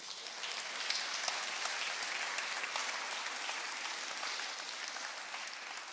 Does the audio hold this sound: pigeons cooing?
no